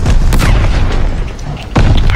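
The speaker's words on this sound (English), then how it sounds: "Friendly bombing run on the way." Explosions from a bombing run in the video game Call of Duty Vanguard, loud deep booms and rumbling blasts, with a fresh heavy impact near the end.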